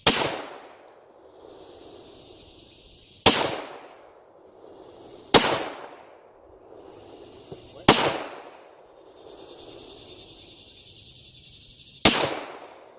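Five sharp, loud pistol shots, spaced a few seconds apart, each fired with a shotshell-only powder load, with a steady background hiss between reports.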